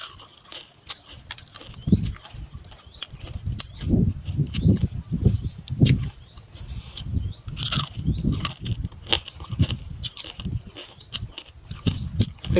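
Someone chews crispy stir-fried crab close to the mic, with repeated crunchy bites and sharp cracks in an irregular rhythm and short quiet gaps between mouthfuls.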